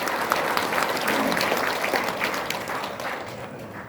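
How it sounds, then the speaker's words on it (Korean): An audience gives warm, sustained applause at a church-style Bible seminar held by a Korean cultural unification institute. The clapping is moderately loud and thins slightly toward the end. "큰 박수 올리겠습니다."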